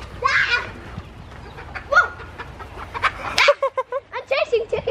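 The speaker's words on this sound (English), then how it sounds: "I'm chasing chickens." Chickens cluck and squawk in short bursts nearby in Kenya, with children's voices chattering in the background.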